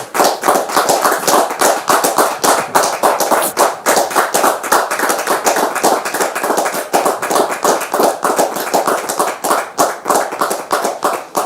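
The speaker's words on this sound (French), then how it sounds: "Merci de la recevoir sous vos applaudissements" Studio audience applause on a French talk show, close, loud and continuous rapid clapping from many hands that holds steady throughout.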